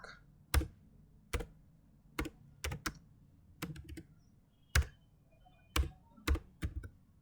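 Computer keyboard typing in short, irregular bursts of crisp, close keystrokes, about a dozen distinct taps with brief pauses, over a quiet background with no talking.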